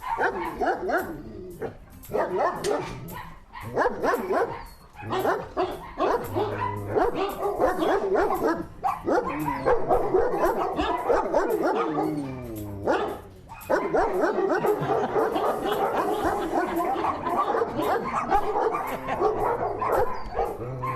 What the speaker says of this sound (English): We've loads of dogs here.